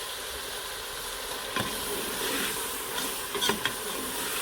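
Mutton korma paste roasting in a pan with occasional scrapes of a spoon, a steady soft sizzle throughout and a few brief stirring clinks near the end, no talking.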